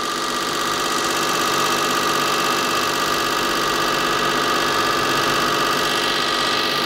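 A cogeneration engine idles steadily up close, a continuous mechanical hum with a fine rapid ticking from the valves running through it, no voices present.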